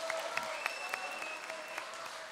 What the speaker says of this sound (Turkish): O zaman büyük bir alkış size attım.